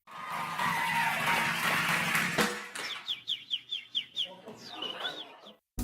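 A woman imitates bird songs with her voice, giving a run of rhythmic whistled chirps and warbling trills after a brief stretch of noisy sound, and the whistles sit close and clear.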